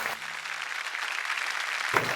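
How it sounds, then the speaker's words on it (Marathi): An audience at a televised women's entertainment show gives a burst of steady clapping, loud and sustained for about two seconds. "चला एकदा जोरदार टाळ्या होऊन जाऊ दे"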